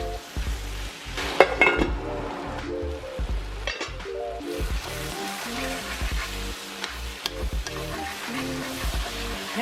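Chili meat and vegetable mixture sizzling and frying in a hot pan while a spoon stirs it, with steady close crackle and repeated scraping and clinking against the pan.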